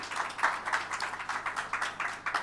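An audience at an official ceremony applauds a minister's representative with steady, rhythmic clapping, evenly pulsed and somewhat distant and soft, with no voices over it.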